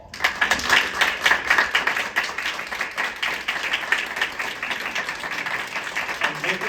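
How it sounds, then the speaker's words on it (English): An audience applauds in Swift Current, Saskatchewan for a 2025 Canadian Parks and Recreation Association award winner, with a dense, steady round of clapping that holds throughout at moderate loudness. "join me in congratulating Val with a good round of applause"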